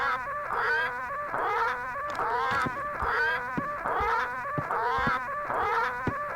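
Parrots in the video game Return to Monkey Island squawk and cluck repeatedly in a busy, rhythmic chorus, with clucking calls and sharp clicks recurring roughly every second, close and fairly loud throughout.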